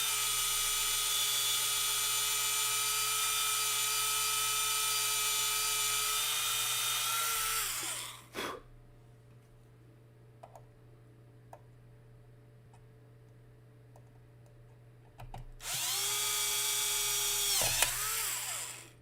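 A small power drill with a bit runs at a high, steady whine while drilling into a plastic model kit, cutting out for several seconds of near silence with faint clicks before whirring up again.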